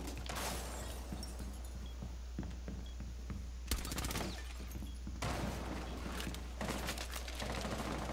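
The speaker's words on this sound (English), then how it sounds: "they're already shooting into A right now" Gunfire in the video game Rainbow Six Siege on the Chalet map, sustained bursts of automatic shots with sharp cracks and louder volleys, over a steady low hum.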